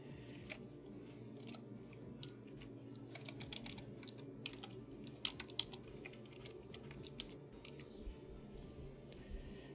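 Steady typing on a computer keyboard, a continuous run of close, crisp key clicks with occasional louder strokes, heard alone without talk.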